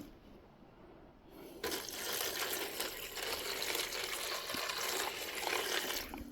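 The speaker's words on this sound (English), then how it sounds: "So we're just going to pour this in, and just enough to cover the fingers." Hydrochloric acid at 32% strength is poured over the gold fingers of RAM sticks, a steady close liquid pour that swells after a quiet start and keeps running without a break.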